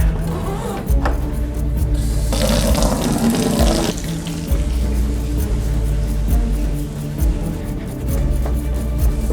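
Water gushes steadily from a tap into a container, a continuous loud rushing stream with a brief splashier surge partway through.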